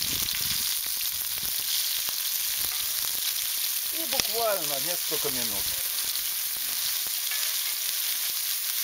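Mushrooms sizzle as they fry in hot oil over an outdoor grill, a steady broadband crackle running throughout, with a brief voice speaking partway through.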